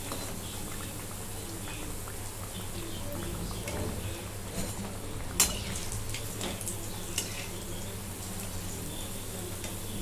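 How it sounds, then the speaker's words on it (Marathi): Bread pakora deep-frying in hot oil, a soft continuous bubbling sizzle with a few sharp pops and clinks, heard close and fairly quiet against a low steady hum. "आता मी तळून घेते."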